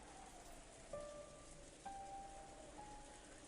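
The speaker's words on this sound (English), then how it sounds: "the meal ended up being so quiet that you couldn't ignore the sound of the rain sneaking into the dining hall" Steady rain heard from inside a mansion dining hall in the Umineko visual novel, a soft even patter throughout with a few faint tonal chimes over it, no voices.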